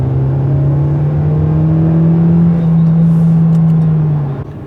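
A 2019 Mercedes B200 in AMG Line trim on 18-inch wheels accelerates, heard from inside as a loud, steady engine drone that climbs slightly in pitch before easing off at the end.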